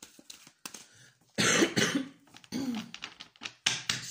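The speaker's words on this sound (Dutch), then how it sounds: "Heb ik last van een hoest" Three or four harsh coughs from one person, loud and close, with quiet gaps between the bursts and no speech.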